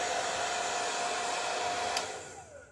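A hair dryer blows continuously up close as it dries Pink Pixie Meltdown sealer on a tabletop beehive craft, with a steady whine that fades out near the end.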